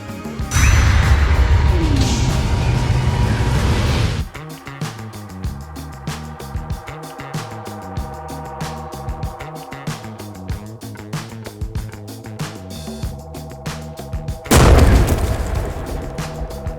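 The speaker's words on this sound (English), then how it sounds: "watch this slow motion explosion" A banana blown apart in a slow-motion explosion: a loud, booming blast at the start, then a long stretch of rhythmic, stretched-out low thuds and clatter, ending with a second heavy boom.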